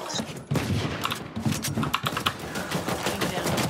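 Rapid gunfire in the video game Valorant, bursts of sharp shots rattling in quick succession over a busy game mix, with a faint voice briefly in the background.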